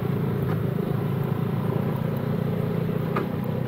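A Vespa S125 scooter rides over a rough road, its engine a steady, dense drone with a constant rumble and no breaks, close and fairly loud throughout.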